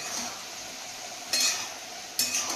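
Vegetable curry being stirred in a pot, a steady soft sizzle with two brief scraping clinks of the spoon against the metal, close and alone.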